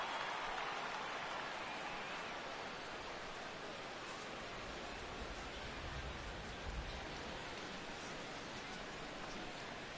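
Steady rain falls over a ballpark in the MLB The Show 16 baseball game, a soft, even wash of patter that stays constant and faint throughout.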